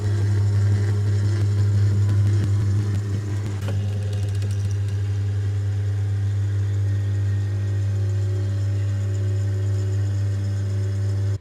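Geared reversible electric motor driving a table lift on a combination assembly, router and laser table, giving a steady low mechanical hum that runs throughout at close range with little change.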